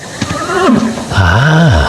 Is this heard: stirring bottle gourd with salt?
no